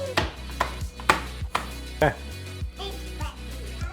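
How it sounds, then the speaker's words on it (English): Garlic cloves are smashed with the flat side of a knife on a board: a series of about eight firm, close thuds at uneven intervals, with a voice-like tone in the background. "Take your big garlic boys, take the flat edge of your knife and smash them"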